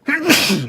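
A single sharp, loud sneeze at close range in a pub setting, bursting out and trailing off within a second.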